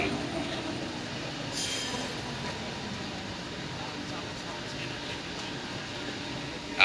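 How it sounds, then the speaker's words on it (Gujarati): A metro train arriving at a station in Malaysia, a steady mid-level rumble with faint wheel squeal, heard from the platform amid background hum. "નજીકમાં 227 મેટ્રો આવી ગઈ છે"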